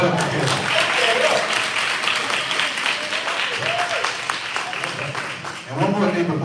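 An event audience applauds and claps for Caleb at a small business appreciation day, a steady wash of clapping throughout, with a voice or two calling out briefly near the end.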